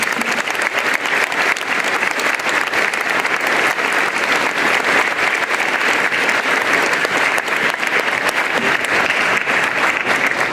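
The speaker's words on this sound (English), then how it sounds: "please join me in a round of applause for our bagpiper" Sustained audience applause for a bagpiper at a school veterans assembly, a loud, dense wash of clapping from a large crowd that holds steady throughout without letting up.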